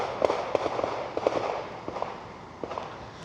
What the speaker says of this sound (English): that sounds like gunshots. And that's because it is gunshots.